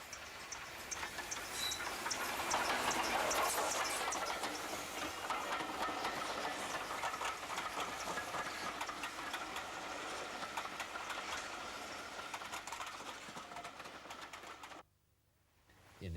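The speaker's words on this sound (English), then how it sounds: "Passing a home signal that's cleared is LNER K4 class number 3442, the Great Marquis," LNER K4 class steam locomotive 3442 The Great Marquis passes a cleared home signal with a rising and falling rush of train and rolling wheel noise, fairly distant. It cuts off abruptly near the end.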